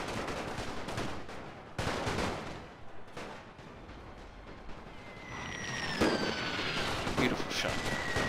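Artillery fire in the World War I strategy game The Great War Mod, German Empire campaign: repeated booming blasts over a dense battle din, with shell whistles streaking through near the end.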